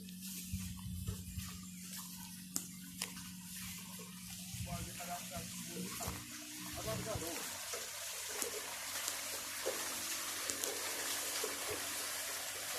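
Water pouring and splashing steadily from an old Punjabi charkha well in a Pakistani village, a continuous rushing flow with people talking over it.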